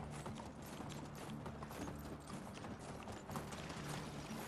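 Hooves of a ridden horse clip-clop in a fast, steady rhythm in the medieval game Medieval Dynasty, faint and continuous under a dense, even layer of background noise.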